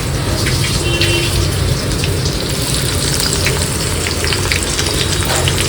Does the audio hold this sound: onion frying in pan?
yes